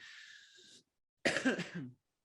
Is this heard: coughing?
yes